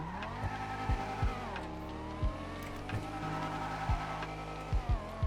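A car in the GTA 5 video game, double clutching and hitting the rev limiter: a loud continuous engine drone broken by repeated sharp stutters and pitch dips at uneven intervals, up close with no talking.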